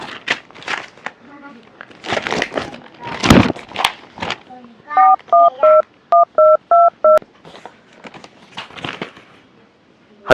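A phone number is keyed in as a quick run of DTMF touch-tone beeps in two bursts midway through, preceded and followed by people talking nearby.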